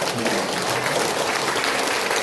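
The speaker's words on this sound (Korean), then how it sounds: "박수 한번 주시죠." An audience at a Korean political talk show applauds, with a dense, steady wash of clapping that fills the whole moment at strong volume and has no voices over it.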